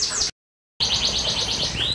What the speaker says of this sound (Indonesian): Burung ini yang jelas sudah bunyi, 5 bulan sudah bunyi.